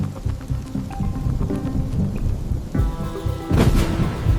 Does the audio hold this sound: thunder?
yes